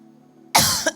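A single short, sharp cough from someone speaking in a large hall, loud and close after a faint low hum, with a brief second burst at the end.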